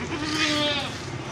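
A young Ajrak Kamori goat, about six weeks old, at a livestock market, bleating in a drawn-out wavering cry, close and fairly loud against background market noise.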